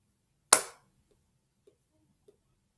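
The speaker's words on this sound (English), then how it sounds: "So I'm going to clap the first one for you." A single sharp hand clap, close and crisp, opening a short rhythm lesson, followed by two faint soft taps in an otherwise quiet room.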